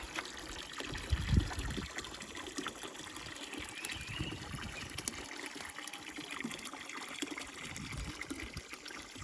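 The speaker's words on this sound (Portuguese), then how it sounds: "Dando água aí pros bezerros." Water pours and trickles steadily for calves on a farm, a continuous close splashing flow with a brief heavier gush near the start and no talk.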